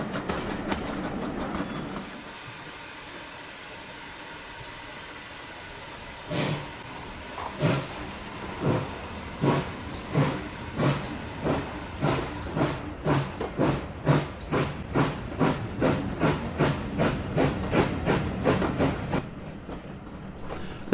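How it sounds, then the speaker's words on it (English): A steam train on the South Devon Railway pulls into Staverton station, a steady hiss giving way to a quickening run of clickety-clack wheel beats over rail joints, close and loud, with no voices. "Here we are arriving back at Staverton, where this time we shall leave the train."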